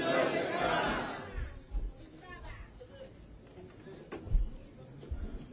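Crowd chanting at a political rally in Kenya, a loud mass of voices building early then thinning into scattered shouts and chatter with a few sharp bursts toward the end.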